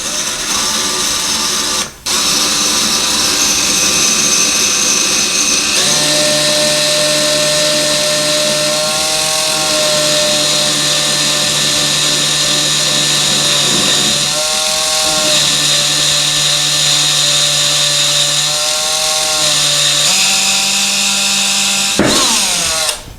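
A power drill bores slowly through ceramic tile, running steadily at a loud, sustained pitch that shifts a few times as pressure changes, with a brief stop near the start and a sharp break at the end.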